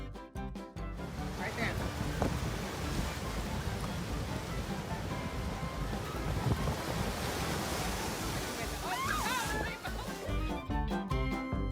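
Rough sea waves crashing at a beach with strong wind buffeting the microphone, a loud, continuous rushing roar; brief voices cut in near the start and end.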